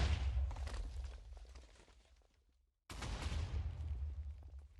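Minecraft cannon fire in a wargear build, a dense rumbling barrage of explosions that fades out, breaks off for a moment of silence, then resumes loudly.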